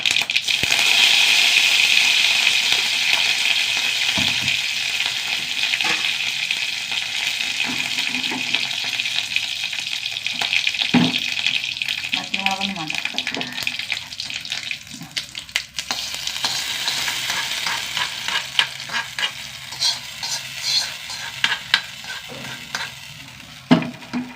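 Mustard seeds and curry leaves sizzle steadily in hot oil in a pan, a loud, continuous frying hiss with scattered pops and crackles throughout.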